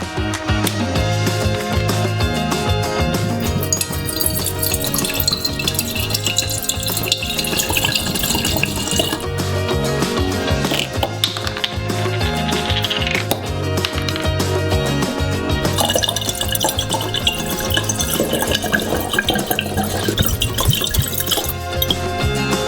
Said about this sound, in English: we will pour 2 bottles of alcohol into it